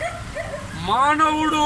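An injured dog, hit by a reversing vehicle, whimpers and yelps in a thin rising cry close by, with a person speaking over part of it.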